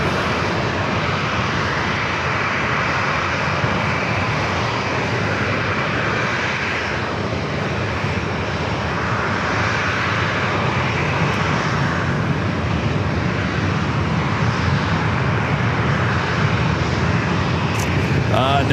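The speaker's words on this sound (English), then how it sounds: "All right, the Osprey taking off." An MV-22 Osprey tiltrotor taking off at San Diego airport gives a loud, steady broadband engine and rotor roar that fills the whole stretch with little change, while voices talk faintly underneath.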